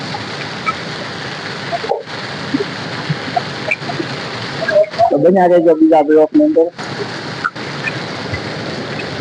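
Rain falling steadily through a storm, a broad continuous wash of noise that runs throughout, with a voice speaking briefly over it partway through.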